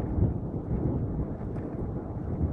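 Heavy wind roars and buffets the microphone steadily as an e-bike climbs uphill into a headwind, loud and continuous with no voices.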